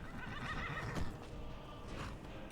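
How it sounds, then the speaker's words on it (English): Horse neighing in the video game Skyrim, a single loud whinny with trailing hoof clops, heard close and alone. "I just want this horse to tame. Please. Please, horsey, let me tame you."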